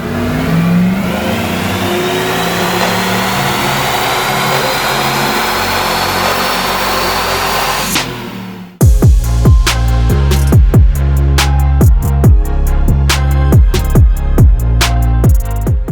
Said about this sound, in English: Today on the dyno we have Scott's 2003 Chevy Silverado.